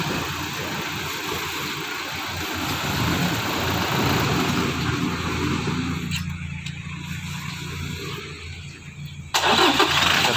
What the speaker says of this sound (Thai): สตาร์ทติดเรียบร้อยนะครับ